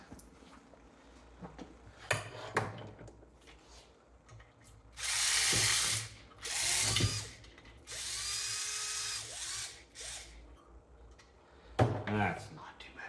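A Ryobi power drill works bolts out of a Briggs & Stratton 3.5 engine crankcase. Several short, fairly loud whirring bursts come in a row, separated by quieter gaps with brief clanks and handling noise.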